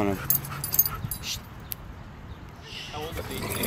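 A young dog, almost ten months old, whimpers and yips in short high bursts during an outdoor meeting with another dog, mixed in with nearby talk and street noise.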